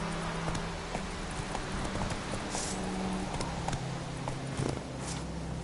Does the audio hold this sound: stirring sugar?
no